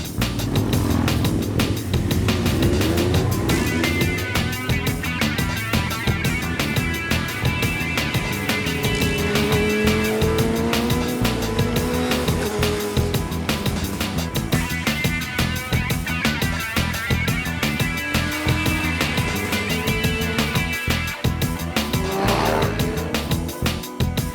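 Motorcycles ride on a race track during a trackday, engines revving and shifting through rising and falling pitches, with bikes passing and some tire noise, loud and continuous without talk.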